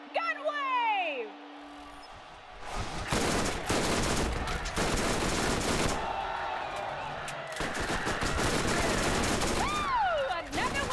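Gunfire during a gun wave in the Borderlands Underdome arena, dense bursts of shots and explosions in several loud stretches, mixed with game sound effects and whistling tones.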